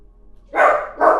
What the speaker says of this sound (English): He is probably barking at an Amazon package.